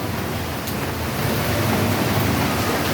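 Morning rain falling steadily, a dense, even hiss of drops that swells slightly toward the end, close and loud, with no voices.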